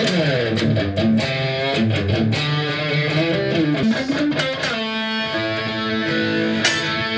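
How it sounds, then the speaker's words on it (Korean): An electric guitar plays through an amplifier, sustained chords and melodic notes ringing out continuously with a full, slightly driven tone. "여기다가 기타를 연결해서 한번 기타를 칩니다"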